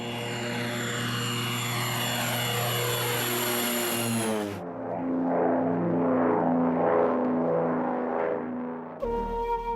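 Seaplane propeller aircraft over the Maldives, a steady droning engine hum with a smooth, continuous tone that shifts partway through and carries on with a rougher, textured rumble.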